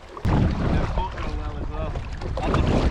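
A small fishing boat heads back toward shore off New Zealand with a tailwind, steady wind buffeting and water rush filling the short stretch, loud and close, with a brief voice partway through.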